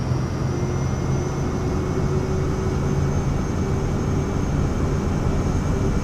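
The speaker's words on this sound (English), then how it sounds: "Alright, turn and burn. Takeoff power is set." A Cirrus Vision Jet in Microsoft Flight Simulator 2024 is at takeoff power, giving a steady, loud, unbroken engine roar with a faint high whine held throughout, with no voices over it.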